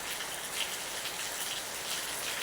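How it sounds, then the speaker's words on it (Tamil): Steady rain falls over Madurai city at night, a continuous even hiss of drops with no voices. "மதுரை சிட்டியிலோ மழை பெய்து கொண்டிருக்கிறது நன்றாக"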